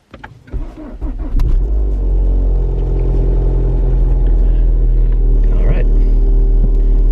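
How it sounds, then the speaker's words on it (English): A Ford Focus RS engine cranks and fires up from cold, then settles into a loud, steady, close rumbling idle that holds throughout, with a brief voice faintly underneath. "So the car's fired up nicely, no issues there."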